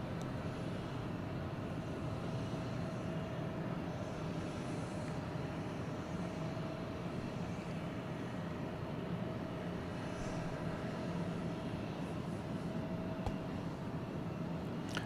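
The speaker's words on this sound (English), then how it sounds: "we've got Delta 341 coming in from Denver, an Airbus A321. That's the next arrival" A Delta Airbus A321 arriving from Denver gives a low continuous jet rumble at some distance, steady and unbroken throughout with no talk over it.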